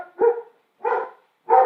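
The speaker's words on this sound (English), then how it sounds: "Sorry, my dog is just barking." A dog barks three times indoors, close and clear, with even gaps between the sharp barks and no talk over them.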